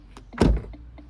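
A single solid thud of a new Opel Astra car door shutting, preceded by a soft click or two, with quiet ticks afterward.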